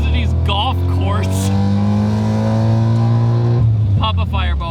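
A Mazda FC RX-7 race car driven on a golf course revs loudly, its rotary engine note climbing and holding in a steady harmonic whine before dropping off near the end, with brief voices at the start and finish.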